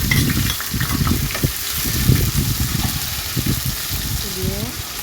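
Chopped onion, ginger-garlic paste and green chili fry in oil in a pan, with a steady close sizzle and bursts of stirring scrapes throughout.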